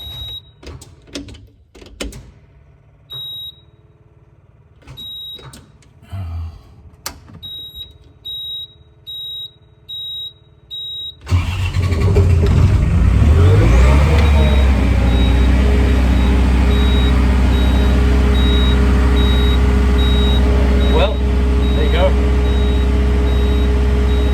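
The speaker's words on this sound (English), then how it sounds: "Let's give it a bit more throttle." A New Holland LS170 skid steer's diesel engine, worked on at the injection pump, first gives repeated electronic beeps and clicks, then roars to life and runs loud and steady as the throttle rises.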